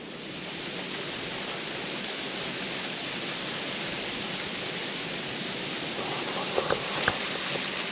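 Steady rain mixed with sleet falls outside a deer camp in Pennsylvania, a constant dense hiss with a few louder drops near the end.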